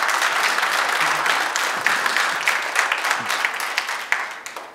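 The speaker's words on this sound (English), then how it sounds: "Give him a round of applause" An audience at a talk bursts into dense, sustained applause that stays loud and even throughout, with scattered cheers.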